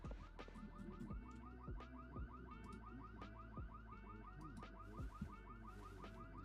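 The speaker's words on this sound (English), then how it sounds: "Hear the alarms going off already?" Several car alarms blare at once in a video game city street above some shops, overlapping warbling, whooping tones repeating rapidly, distant-sounding and quiet, with occasional sharp knocks mixed in.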